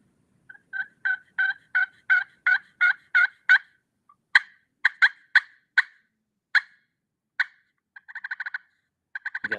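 An HS Little Deuce turkey call produces a run of sharp hen-like yelps, first a steady series of about ten, then spaced single notes, and finally a fast rolling burst, all loud and close with no talk.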